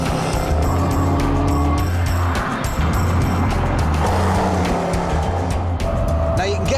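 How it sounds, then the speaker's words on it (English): Supercharged 503 bhp petrol V8 Range Rover Sport driving hard around Donington Park race track, a loud continuous engine roar with tyre noise throughout, close and steady with no talk. "The one I'm in is the supercharged petrol V8 with 503 brake horsepower"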